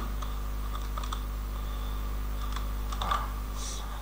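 Brisk clicks of a computer keyboard, near and fairly quiet, come in short bursts over a low steady hum.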